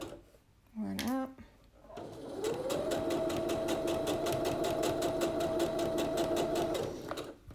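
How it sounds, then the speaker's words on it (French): A domestic sewing machine runs a straight line of stitching on a blouse, a steady, fast mechanical whir lasting several seconds after a brief voice at the start. "la machine à coudre, c'est toujours plus simple quand c'est droit"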